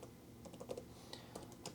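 Quiet typing on a Microsoft Surface Pro X keyboard, a few soft scattered key clicks in a brief burst, faint and close with a low background hum.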